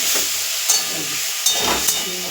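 Eggplant fries in a pan with a garlic and black cumin tempering, a close, loud steady hiss broken by a few short sharp crackles and stirring sounds, with no talking.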